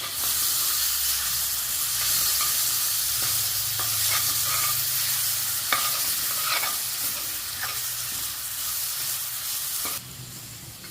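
Tomatoes sautéing with onions in a pan for carrot and paneer biryani give a steady sizzle and hiss, with occasional scraping stirs and a dip in intensity near the end.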